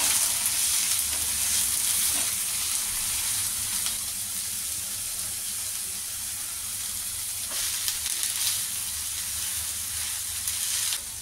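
Millet uttapam topped with vegetables sizzles steadily on a hot pan, a continuous close frying hiss with a few soft crackles and no talking.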